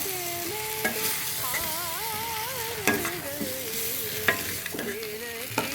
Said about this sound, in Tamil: இந்த மசாலா எல்லாமே அதில் படுற மாதிரி அப்படியே கிளறி விடுங்க மெதுவாக